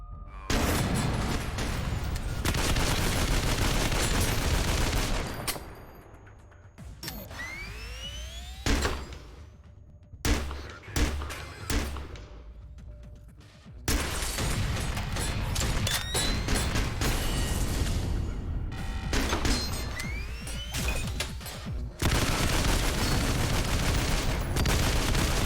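Video game gunfire in long sustained bursts, a dense roar of rapid shots broken by a few short gaps, with chirping tones and booms mixed in.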